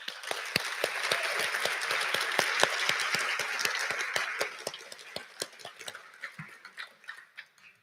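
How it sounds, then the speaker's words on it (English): An audience at the Hack the Hill II hackathon opening ceremony applauds the sponsors with dense, steady clapping that tapers into sparse, distinct claps. "let's now finally give a huge round of applause to all of our sponsors"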